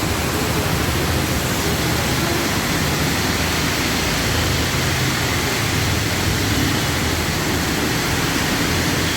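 A roadside waterfall pours down in the rain beside a road construction site, a dense, steady rushing roar that stays loud and unchanging throughout.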